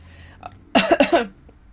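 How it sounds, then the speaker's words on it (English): A short burst of dry coughing, three or four quick hacks close to the mic, preceded by a faint breath. "Sorry, I have a dry cough."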